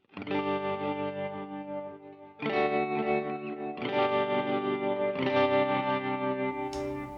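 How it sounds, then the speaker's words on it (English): Electric guitar chords played through a tremolo effect, each strum sustained with a wavering, pulsing texture; four chords ring out in turn. "So here is what the tremolo would sound."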